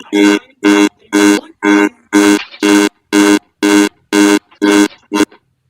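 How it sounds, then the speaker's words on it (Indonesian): An alarm clock blares to mark that time is up. It sounds eleven loud, evenly spaced electronic beeps, each about a quarter second long, at a brisk steady rhythm. A brief voice cuts in near the middle, and the clip ends in near silence. "Time is over. Alarm berbunyi."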